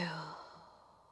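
A single audible exhale during a yoga breathing sequence, a close, soft breath out that tapers away over about a second.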